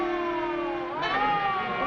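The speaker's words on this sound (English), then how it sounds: "It's a siren. Probably an ambulance or a police car." Siren wailing in a 1940 film, a single tone that holds steady and then bends upward into a rising wail, fairly loud and heard alone.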